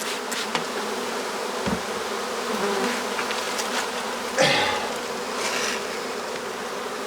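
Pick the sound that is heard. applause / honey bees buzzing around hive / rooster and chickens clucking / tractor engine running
honey bees buzzing around hive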